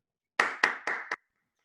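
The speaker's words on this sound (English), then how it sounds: "So let's have a round of applause for all of us for being here." Four sharp, evenly spaced handclaps close up at a Toastmasters meeting, crisp and brief, then silence.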